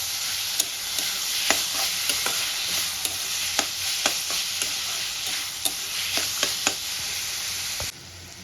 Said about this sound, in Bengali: এবার টমেটোটা দিয়ে আমি ভালো করে কষাতে থাকবো